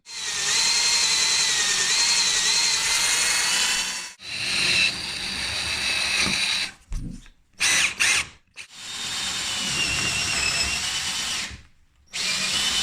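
A power drill whines loudly in long bursts, drilling holes for bolting a dining table to a kitchen island, stopping and restarting several times with short pauses between runs.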